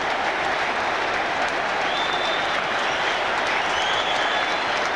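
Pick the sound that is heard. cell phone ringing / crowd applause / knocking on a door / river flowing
crowd applause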